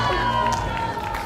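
Crowd at a teqball finals match in Dubai's Burj Park, cheering and shouting loudly and steadily throughout, with a dense roar of many voices and no break.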